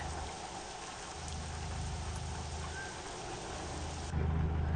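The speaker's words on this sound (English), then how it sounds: "Rain." Rain drumming on a lorry while driving in Euro Truck Simulator 2 across the UK, a constant broad hiss over low engine rumble, with a deeper rumble rising at the end.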